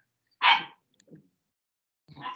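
A voice imitates a dog barking: one sharp, loud bark, then a faint short sound and a second weaker bark-like call, with silence between, heard in a quiet meeting-room setting.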